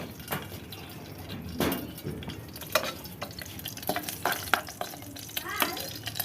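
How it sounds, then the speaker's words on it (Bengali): Green chillies frying in oil until crispy, a soft bubbling sizzle broken by scraping stirs and clinks, fairly quiet and close, with brief voices in the background. "ঝালটা একটু মশমশে করে ভেজে দিতে হবে"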